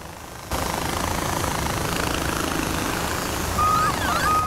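A helicopter flies in the video game Far Cry 4, its engine and rotors making a steady, dense whir that starts abruptly and continues throughout.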